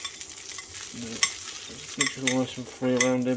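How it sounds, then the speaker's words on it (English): A burger sizzles in melted butter in a frying pan, with bursts of frying and stirring rising and falling under a person speaking nearby. "As you can hear it sizzling away"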